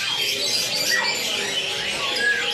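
Caged birds at the Pramuka bird market in Indonesia, a dense, constant chorus of many overlapping chirps, tweets and squawks from numerous birds close by, with no clear speech.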